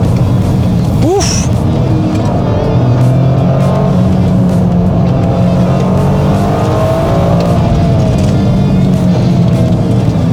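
A turbocharged GR Corolla or Civic Type R hot hatch accelerates hard through corners on a mountain touge road, with a loud, sustained engine drone that shifts pitch as it pulls, a brief rising whistle early on, and faint talking underneath.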